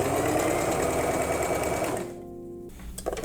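Sewing machine running fast on a shirt seam with its bobbin empty, a loud steady mechanical whir that slows and drops to a quieter hum near the end, then small clicks.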